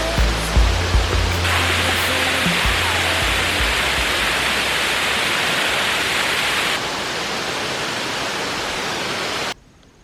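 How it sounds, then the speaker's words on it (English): Waterfall at Lushoto in Tanzania, a steady broadband roar of falling water filling the whole clip, loud and close, with a brief low rumble near the start and the sound cutting off abruptly at the end. "So we made it to the waterfall, and oh my god, just look at this."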